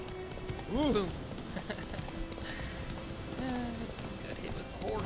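Horse hooves clip-clopping in the video game The Witcher 3, with a brief loud burst near the start and game sounds continuing under occasional voice.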